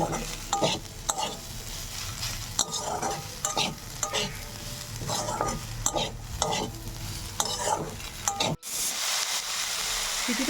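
Flattened rice with two green chilies is stirred and fried in a pan on a gas stove, a steady sizzle broken by repeated scraping strokes of the spoon, close and loud, with a brief dropout near the end.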